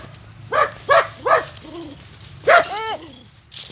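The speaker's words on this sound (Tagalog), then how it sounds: "Katakot yung aso. Nasugod." A dog charges and barks close by, with four sharp barks in quick succession followed by a whine and a longer bark, heard over faint outdoor background noise.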